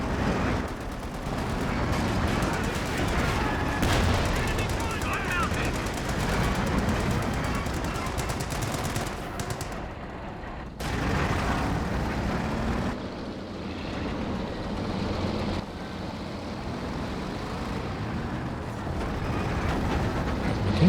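Pathfinder infantry rifle fire in a Company of Heroes 2 battle, steady crackling volleys layered with heavier distant booms and battlefield rumble, briefly thinning before the shooting picks back up.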